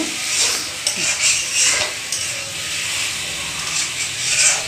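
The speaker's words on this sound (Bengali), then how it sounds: "তো আলুটা এখন কষিয়ে নিচ্ছি" Potatoes sauté in a home kitchen pan with a loud, continuous sizzle, broken by scraping stirs and occasional clinks of a spatula against the pan.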